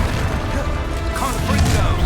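Spell explosions from Bombarda, Confringo and Depulsor in the video game Hogwarts Legacy, a dense, loud rumbling blast wash that runs continuously for about two seconds.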